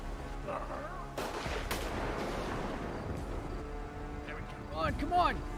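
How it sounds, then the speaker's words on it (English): Gunfire in a tense survival video game, with bursts and shots spread through the scene alongside loud rumbling action, while characters talk and shout over it near the end. "I heard gunshots ahead."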